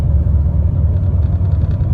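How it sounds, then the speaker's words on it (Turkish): Nissan Qashqai with a faulty JF017 CVT automatic transmission, idle revs fluctuating while driving: a loud, close, low engine rumble that wavers unevenly from inside the car, with no talking. "Rolantiyi dalgalandırıyor."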